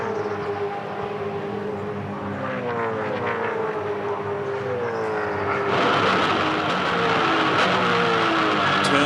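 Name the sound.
V8 Supercars race cars racing at Tasmania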